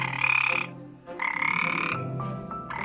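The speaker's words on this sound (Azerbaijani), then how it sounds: "Kəndin yaxınlığındakı gölməçədə bir qurbağa yaşayırmış." A frog in a village pond croaks in loud, close, buzzing bursts, three or four calls separated by short pauses, with no other sounds or voices.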